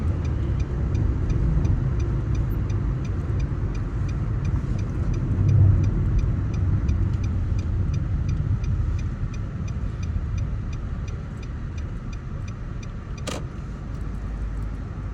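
A car being parked during a driving lesson, its engine idling in a low steady rumble inside the cabin, with a regular faint ticking throughout and one sharp click near the end.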